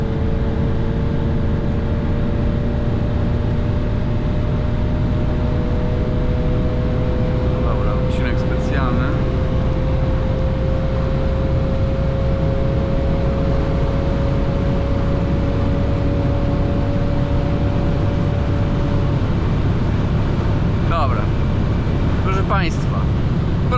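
A 2015 Mercedes C450 AMG cruises at very high speed, a loud steady roar of engine, tyres and wind with a faint sustained tone, heard from inside the cabin, with a couple of brief clicks.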